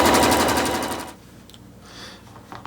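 A computerized embroidery machine stitches an appliqué outline on fabric in a hoop, giving a loud, rapid rhythmic needle clatter for about a second before it stops and quiet handling noises follow.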